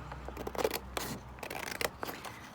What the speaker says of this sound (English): So I'm just going to cut them down.